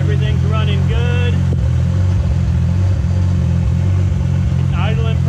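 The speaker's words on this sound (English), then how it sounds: "It's idling pretty smooth" A Toyota Supra engine idles with a steady low rumble, close and loud, while someone talks over it at the start and end.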